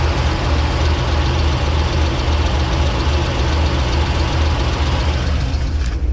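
A Chevrolet Corvette FRC idles with a horrible exhaust leak underneath, giving a loud, continuous, rough rumble that holds steady throughout with no talk.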